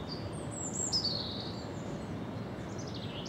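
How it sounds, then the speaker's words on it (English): Great tit and robin songs on a spring countryside walk between Hassocks and Brighton, heard as faint, distant high chirps and trills over a steady low wind-like background hiss. "Just hear him in the background above that great tit and robin."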